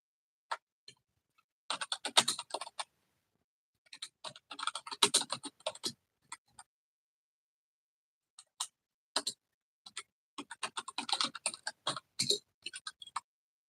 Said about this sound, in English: Typing something in the comments here.